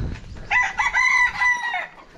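A rooster crows loudly and close by, one long drawn-out call with a rising and falling tone, with faint clucking at the start.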